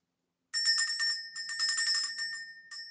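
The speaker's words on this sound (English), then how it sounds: "Let's ring the bell." A small bell rung in quick bursts, producing bright, high metallic rings in rapid repeated strikes with a clear sustained tone, close and loud, with a short pause between clusters.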